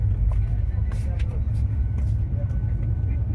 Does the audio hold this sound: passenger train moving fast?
yes